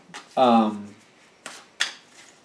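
Tarot cards shuffled in two short, crisp bursts close by, following a brief moment of speech.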